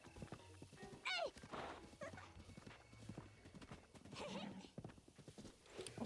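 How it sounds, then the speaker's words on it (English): A horse in the video game Breath of the Wild clip-clops along steadily while neighing with a sharp whinny, hooves thudding in rapid rhythm amid game sounds, fairly quiet overall. "You are, I'm sorry to say, a low-quality horse."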